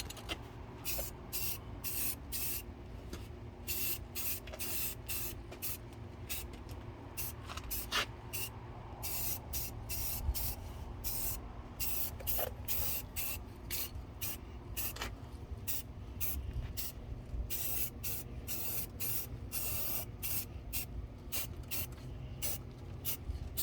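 Spray paint goes onto the grill of a 2006 Ford Explorer in repeated short hissing bursts from an aerosol can, close and fairly quiet, with brief gaps between passes.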